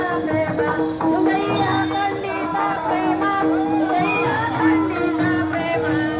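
A dense crowd on a foot pilgrimage procession (dindi) for Sant Sena Maharaj at Vangdari, many voices mingling with steady chanting or singing, continuous and fairly loud throughout.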